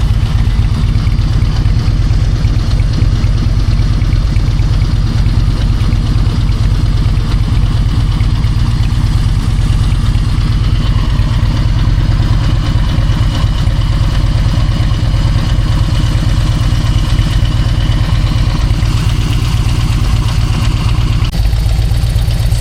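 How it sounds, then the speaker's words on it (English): A motor vehicle engine idles steadily in the Rif mountains of Morocco, a loud continuous throbbing rumble with slight clatter, alone for over twenty seconds and easing off near the end. "I'm actually having to just keep the engine ticking over"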